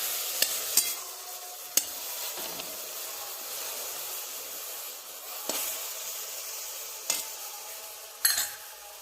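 Dill greens are stir-fried in oil with salt, chili powder and turmeric, giving a continuous soft sizzle broken by occasional clinks and scrapes of the spatula against the pan, close and moderately quiet.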